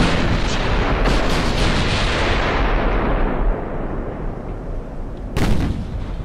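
Battleship 14-inch guns firing in the naval game Ultimate Admiral: Dreadnoughts, a dense, roaring barrage of heavy booms that thins into a rumbling decay before one more sharp blast near the end.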